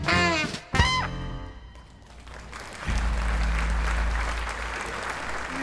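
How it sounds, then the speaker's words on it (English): Applause sound effect on a livestream: a swell of clapping and crowd noise rises after a short spoken bit and carries on steadily at moderate loudness. "Can you hear the applause?"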